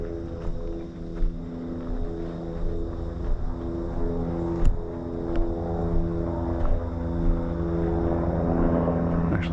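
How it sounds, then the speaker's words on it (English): A helicopter flying overhead above woods near Lewiston, Maine, its rotor and engine giving a loud, steady drone with faint rhythmic thumping that swells slightly over several seconds. "Actually a helicopter."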